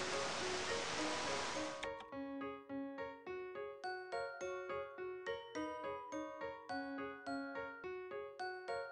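Steady hiss of rain in a children's educational computer game fills the first two seconds, then gives way to bright, plucked melodic notes repeating in a steady rhythm.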